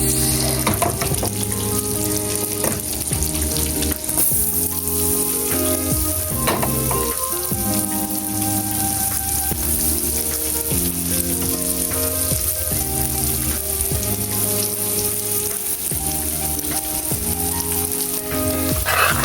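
Onions frying in a pan while cooking garlic buttered shrimp, a loud continuous sizzle close up, with steady tonal music playing throughout.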